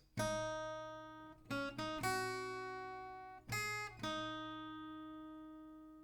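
A few plucked acoustic guitar notes ring out one after another and sustain, decaying slowly in a quiet, sparse melody.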